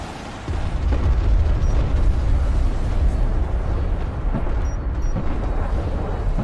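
Video game artillery barrage with heavy booming explosions rolling into one another, a deep continuous rumble that starts abruptly and stays loud, with no talking.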